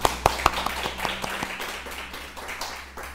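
A church congregation claps at a Christmas service, starting with a few sharp, distinct claps that spread into a dense, steady patter of applause, close and fairly loud, with no voices over it.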